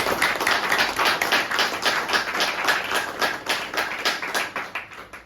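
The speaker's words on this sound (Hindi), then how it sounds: "कुणाल जी के लिए एक बार जोरदार तालियां।" An audience at a motivational talk claps steadily, a dense run of quick, even hand claps that holds at a constant level and dominates the room without any speech.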